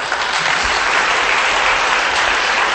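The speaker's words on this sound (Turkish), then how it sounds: "Alkış." Loud, dense applause from a studio audience at a Turkish television show, a continuous roar of clapping hands that fills the whole moment with no speech over it.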